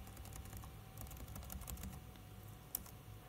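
Keys tap on a 2013 ThinkPad laptop keyboard as the volume hotkeys are pressed, giving a quiet series of light clicks spread evenly through the clip, with one sharper click near the end.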